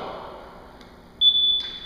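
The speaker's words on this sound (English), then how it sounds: "the timer, I'm gonna set it to go every minute on the minute. You're gonna hear a beep" A workout interval timer used during kettlebell training gives a single sharp electronic beep, a clean steady tone lasting under half a second over a quiet room.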